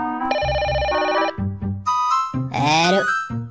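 A telephone rings close by in repeated electronic ringtone bursts, loud and distinct, with other sounds between the rings.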